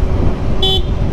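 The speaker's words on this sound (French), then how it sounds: "Et maintenant je vais commencer les tests par des coups de klaxon." A 2012 Suzuki GSR 750 motorcycle horn gives one short, loud beep in the middle of steady engine and road noise.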